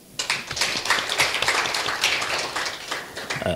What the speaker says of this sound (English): A clap for the girls.